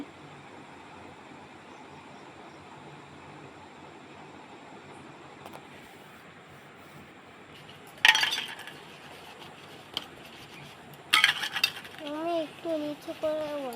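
Puja utensils are washed at a sink, with faint quiet handling followed by a few loud clattering clinks of metal dishes and bursts of running, splashing water toward the end.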